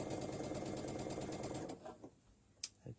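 A sewing machine stitches quilt fabric for a mini quilt, running in a fast, steady, close whirr for almost two seconds before stopping, followed by a few faint clicks and handling sounds.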